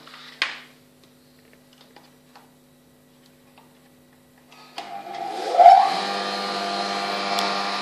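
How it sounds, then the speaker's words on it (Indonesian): A stone grinder grinds soybeans for soy milk. After a sharp click and a few faint ticks in near silence, the motor starts up and settles into a loud, steady hum with a grating scrape of stone against stone. "Nah, ini bunyi gesekan antar batu."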